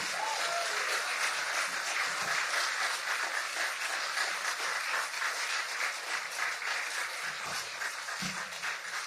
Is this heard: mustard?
no